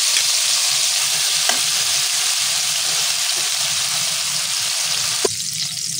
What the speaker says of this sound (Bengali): কেটে ধুয়ে রাখা লতিগুলোকে তেলের মধ্যে হালকা ফ্রাই করে তুলে নেব